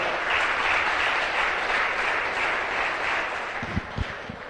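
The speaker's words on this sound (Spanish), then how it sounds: "Dale un fuerte aplauso" Sustained applause from a church congregation during a sermon, a dense steady wash of many hands clapping that fades slightly toward the end, with a few sharper nearby claps standing out.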